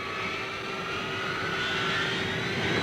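A military jet bomber's engines roar steadily and loudly through its takeoff, a continuous broadband rush with a sustained whine that builds slightly over the few seconds, with no voices heard.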